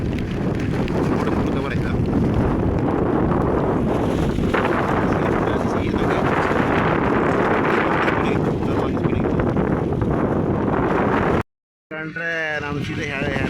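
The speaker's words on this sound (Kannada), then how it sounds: "ಗಾಳಿ ರಭಸದಿಂದಾಗಿ ನಾ ಮಾತಾಡೋದು ಏನು ಕೇಳೋದಿಲ್ಲ" Strong wind at sea on a fishing boat roars and buffets the microphone without letup, loud and dense, with a brief dropout and a voice heard faintly just afterward.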